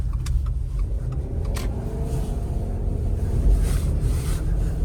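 A Subaru Outback Wilderness drives along an unplowed snowy neighborhood street, with low engine rumble, road and snow noise and wind buffeting, plus a few light clicks inside the cabin.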